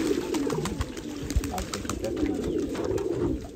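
Pigeons bathing in the sun in Pakistan, cooing softly in low, rolling murmurs beneath a constant outdoor hiss, with faint background voices.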